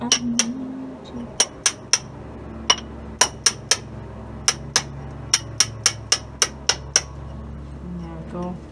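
Hammer driving a chisel to clear damp, muddy mortar from an old cellar wall beneath a forge dating from 1784. Sharp, close metallic strikes land in an uneven series of about twenty blows over a low background hum.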